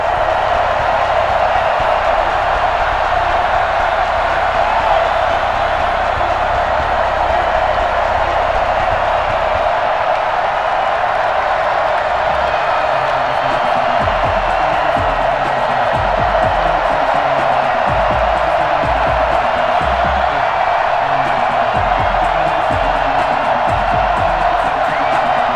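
A stadium crowd in the Madden NFL 21 video game at FedEx Field on a sunny afternoon, with Washington Football Team playing the New York Jets. Steady massed roaring and cheering fills the whole stretch, with low thumps underneath in the second half.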